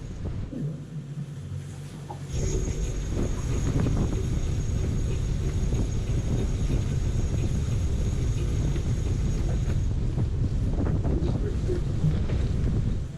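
Strong wind roars over a sailing catamaran in a storm with a second reef in the mainsail, a loud steady rush with gusts building after the first couple of seconds and running on without a break.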